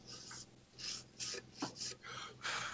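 Close, crunchy chewing comes in rhythmic bursts of gritty crackling, several bites in quick succession.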